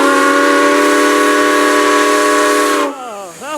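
Grand Canyon Railway steam locomotive 4960, celebrating its 100th birthday, sounds a very loud, steady whistle held for about three seconds before it cuts off, leaving a hiss and a brief sliding tone.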